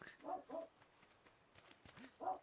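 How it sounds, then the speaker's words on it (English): A dog barking at a distance in a base-building exploration game, two quick faint barks, a pause, then another bark, with soft footsteps and ambient noise between them. "Dog is barking."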